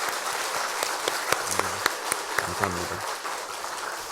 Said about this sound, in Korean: 우리 목사님께 박수 한번 더 주셨으면 좋겠어요.